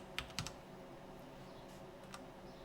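Quiet computer keyboard typing: a few quick clustered clicks near the start, then scattered single keystrokes over low room hum, with no talking.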